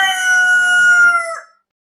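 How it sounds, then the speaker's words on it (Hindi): A single loud rooster crow rings out close by, rising and holding for over a second before cutting off into silence, with no other sounds around it. "वो था मुर्गा।"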